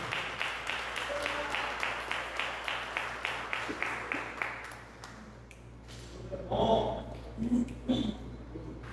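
A church congregation claps in rhythm for the teacher, with steady, even beats for about five seconds that then fade out as a voice begins speaking.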